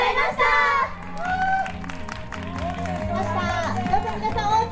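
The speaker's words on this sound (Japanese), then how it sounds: "どうぞ皆さん大きな拍手をお送りください" An outdoor audience at a soba festival in Horokanai applauds after a live performance, with scattered claps and crowd noise under an announcer's voice and music throughout.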